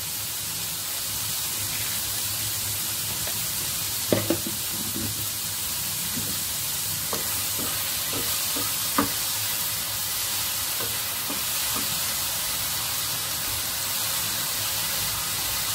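Chopped tomatoes fry with salt in a pan, giving a continuous close sizzle and hiss, with scattered scraping and knocking as a spoon stirs them every few seconds.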